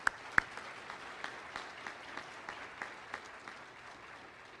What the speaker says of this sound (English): Big round of applause for our board members.